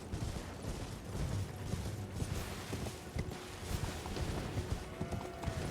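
Horse hooves gallop in Elden Ring, a rapid, continuous thudding clatter that holds steady throughout over a dense, busy game background, with no voices.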